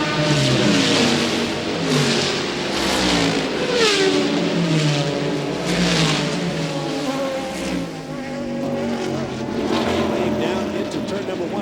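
Race cars accelerate hard after the pace car pulls off at the Sebring 12 Hours endurance race, a 1999 field including an Audi R8R and a BMW, with engines rising and falling as they pass under a commentator's voice.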